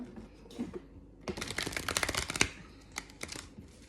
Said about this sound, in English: I'm just gonna shuffle one more time here